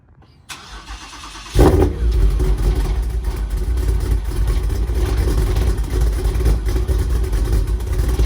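A car's engine, not started in three weeks, cranks over after a near-silent pause, then catches abruptly and runs rough and loud, revving unevenly close by with no talk over it.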